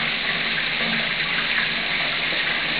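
A shower runs steadily, a close, even hiss of spraying water with no break, with an Eclectus parrot bathing under it.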